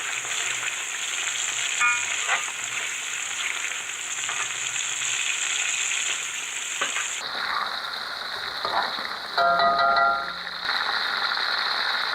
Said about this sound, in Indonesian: untuk menggoreng udang ya, sebentar aja. Kalau udang itu cepat matang ya. Kita pakai minyak panas.